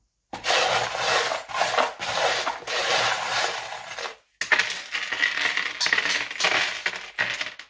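Small charms set down one after another on a wooden divination board, with clattering, rubbing contacts and one piece dropping, close and steady apart from a brief pause midway.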